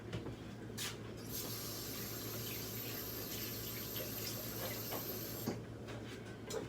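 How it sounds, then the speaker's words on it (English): Steady running water from a kitchen tap as hands are washed during pico de gallo prep, a continuous broadband hiss close by with small splashes, no speech. "Wash my hands off"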